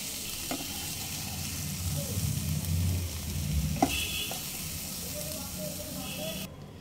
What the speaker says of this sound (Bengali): কয়েক মিনিট নেড়ে চেড়ে জল শুকিয়ে আসা পর্যন্ত নেড়ে নিলাম